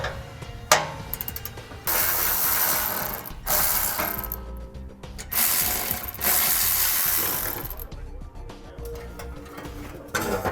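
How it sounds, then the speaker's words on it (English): A ratchet with a 13mm socket takes bolts off the frame of a 2016 Ford F-150. Bursts of rapid, close clicking are separated by short pauses, with faint metallic clinks between them. "Now I'm going to be using a 13mm socket to remove these bolts."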